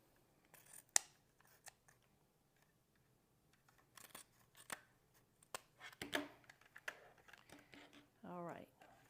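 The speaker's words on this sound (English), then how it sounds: "Now I just need my scissors." Scissors snip through paper in quiet, irregular crisp cuts, with a few sharper clicks and a brief low murmur near the end.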